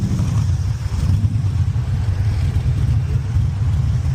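A loud car engine at a car show rumbles and revs steadily at close range, its deep low growl continuous throughout with no talking.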